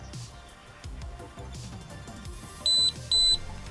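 Two short, high-pitched electronic beeps in quick succession from an AceTech Raider airsoft tracer unit switching modes, clear above quiet background handling noise.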